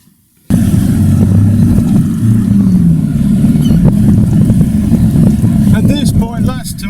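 A 2015 Land Rover Defender 2.2 engine revs steadily and loudly through repeated accelerations after a quiet start, a sustained low drone with a voice talking over it toward the end.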